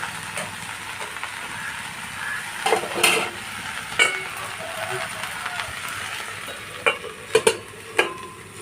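Sliced okra frying in a pan is stirred, giving scattered spatula clacks and scrapes over a low, steady sizzle, close by, with a voice speaking at times.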